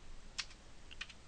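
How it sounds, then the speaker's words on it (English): Keystrokes on a computer keyboard while typing code commands in the Eclipse editor, two short clusters of soft clicks about half a second apart over a quiet background, no speech. "All right, we're going to start typing commands now."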